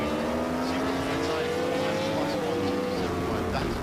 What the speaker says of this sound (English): that is a very workable motorbike going at that speed now